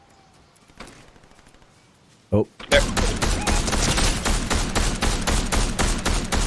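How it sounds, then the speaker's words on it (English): Gunfire in a video game: after a quiet stretch with a single sharp crack, a sustained fusillade of rapid shots erupts and keeps going, loud and close, while a player briefly speaks. "Yeah, gunfire."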